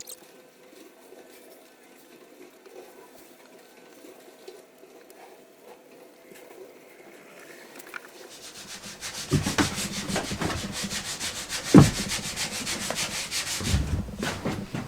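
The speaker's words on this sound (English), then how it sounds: "Just giving them that quick sand over with the grain, like it says on the instructions." Wooden kitchen worktop panels made from old school wood being sanded by hand with the grain; a steady, loud rubbing scrape starts about nine seconds in after a quiet stretch, with brief pauses in the strokes.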